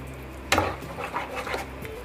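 Pasta in creamy white sauce with salt and seasoning being stirred in a pan over a low flame, a utensil scraping and clinking against the metal in several short strokes, fairly quiet with a soft background hum.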